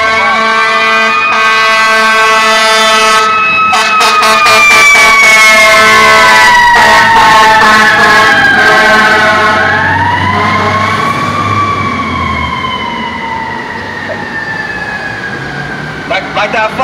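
A fire truck siren wails loud and close, its pitch sweeping up and down, with a burst of rapid horn blasts early on before the wail slowly fades.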